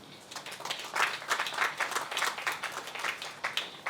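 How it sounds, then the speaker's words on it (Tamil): Audience applause at a Tamil stage event where actor Madhan Bob is speaking: a steady wash of many hands clapping, fairly faint and distant, sustained for the whole stretch with no talk over it. "அட்லீஸ்ட் ஒரு மினிமம் கைத்தட்டியாவது டோக்கன் ஆஃப் அப்ரிசியேஷன் கொடுக்கணும்"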